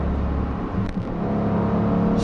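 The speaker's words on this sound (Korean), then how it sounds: "시프트 다운을 하면 이 마지막에 털어내듯이 엔진 사운드의 뒷마무리를 아주 재미있게 마무리를 하고 있습니다" Range Rover Sport SVR engine rumbling steadily under load during paddle downshifts, a continuous close, loud drone with a brief dip near the middle and no voices.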